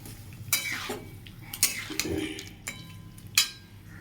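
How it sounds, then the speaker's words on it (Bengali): Spice paste sautéing in a pan for a soybean curry, with a low sizzle under repeated metal spoon scrapes and clinks against the pan, several sharp strikes spaced through the stretch, close and fairly quiet. "মশলার ওই পেস্টটা দিয়ে দেবো করে এটা ভালো করে কষে নেব"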